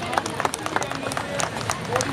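Scattered audience clapping at a women's safety self-defence demonstration during an outdoor festival in Delhi, quick uneven claps rising over crowd murmur at moderate distance.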